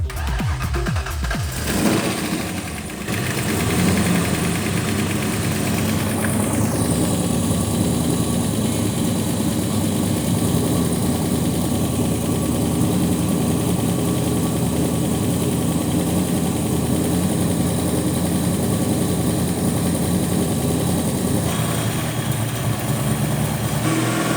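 A rebuilt Ford Mustang engine, replacing a blown one, idles steadily and loudly after starting up, a low continuous rumble with a faint whine settling in, no voices over it.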